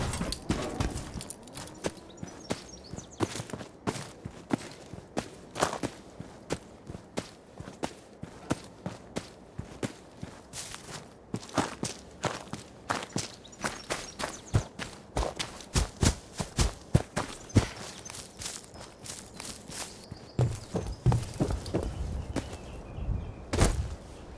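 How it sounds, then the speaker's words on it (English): Dense, realistic in-game footsteps from a Fallout 4 sound mod, with steady close steps and quick bursts and a faint rattle of gear and backpack throughout. "Project Reality Footsteps changes almost all footstep sounds into more realistic ones, including subtle gear and backpack rattle"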